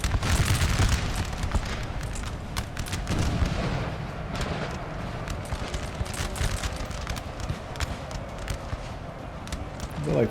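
Napoleon Total War battle with several units firing: a continuous rumble of distant musket and cannon volleys, loud at the start and then a steady thick crackle over the whole stretch, with a voice talking underneath.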